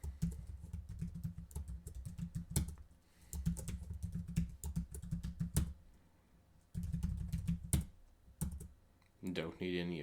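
A password is typed on a computer keyboard while setting up a Linux user, heard as close, quiet bursts of rapid key clicks separated by short pauses.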